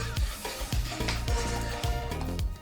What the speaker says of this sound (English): I like to give the butter and sugar a bit of a sizzle so it almost caramelizes